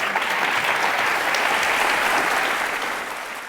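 Sustained studio audience applause at an Indian TV courtroom-style talk show, a dense, steady wash of many hands clapping that holds evenly for about three seconds before easing slightly at the end.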